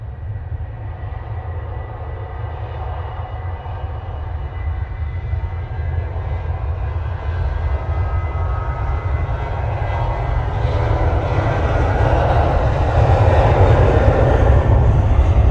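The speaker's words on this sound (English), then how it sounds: "Ryanair now on the roll." A Ryanair airliner rolls for takeoff at Manchester Airport in windy weather, its engines a steady, loud rumble that swells gradually over about fifteen seconds, heard alone without voices.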